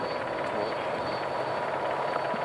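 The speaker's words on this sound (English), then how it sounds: "a helicopter blowing a bit of the old wheat around here at the moment" Steady broadband rotor and engine roar of a helicopter hovering low over a wheat field during a Tour de France stage, continuous and fairly loud, with no voices.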